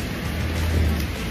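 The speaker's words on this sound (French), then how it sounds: "Écoutez, il pleut." Steady rain pours down in a continuous wash of hiss with a low rumble beneath it. No voices are heard.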